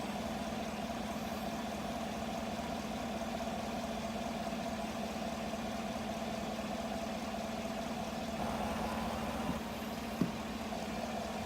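Steady GMC Sierra pickup truck engine idle with a low, constant hum and mid-range drone, recorded close in the engine compartment with a cold air intake, with a brief bump in level near the end.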